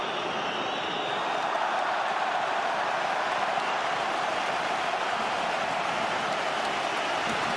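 Stadium crowd at a Sweden versus Portugal World Cup play-off football match: steady broad applause and crowd roar, sustained and fairly loud throughout without a break.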